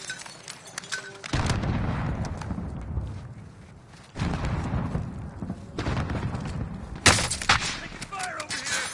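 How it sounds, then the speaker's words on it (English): Gunfire in the Warzone battle royale video game from a Ram-7 rifle loadout: sustained, loud rattling volleys and booming shots that swell and fade across the stretch, with a sharp burst near the end and voices faintly underneath. "Taking fire over here."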